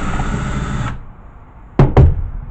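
Screws are removed from a VHS recorder, with a steady whirring tool that cuts off, then two sharp, close clicks or knocks after a short pause.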